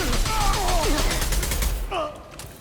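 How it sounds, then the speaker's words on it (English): Rapid gunfire from a Mass Effect 2 firefight rattles on in bursts beneath a man's speech, with a brief lull near the end. "Taking fire."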